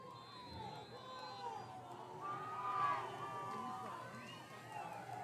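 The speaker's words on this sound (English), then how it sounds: "I'm hearing the Nipomo crowd right now." A high school football crowd at a Nipomo Titans at Righetti Warriors game cheers and roars after a touchdown, a steady swell of voices that peaks midway, with some scattered shouting and a commentator talking over it.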